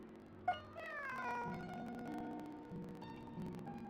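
A cat meows repeatedly in Genshin Impact, a sharp opening cry followed by several drawn-out, wavering meows layered with soft game ambience, moderately close and fairly quiet.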